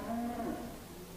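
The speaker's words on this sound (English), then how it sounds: "this pen of cattle here is some younger cattle bought by Tees Australia" Cattle moo in a saleyard pen of younger cattle and heifers, a long, steady lowing call that holds close and loud through the whole moment with no talk over it.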